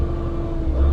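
An HGV truck engine with a fault hums and rumbles loudly up close, a steady low drone with a tonal whine that swells slightly toward the end.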